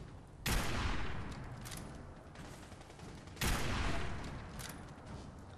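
Gunfire in the Fallout 4 video game comes as two sharp loud shots, each followed by a sustained rattling burst and echoing roar that fills the clip.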